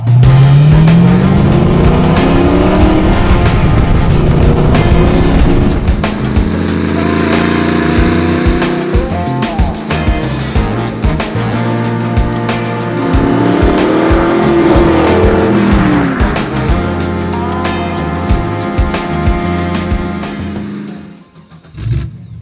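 A track-prepped Porsche 914 with a swapped 525 whp LS7 V8 drives hard, the engine loud and close as it revs up through gears with rising and falling pitch sweeps, shifts and brief lifts, ending as it idles down.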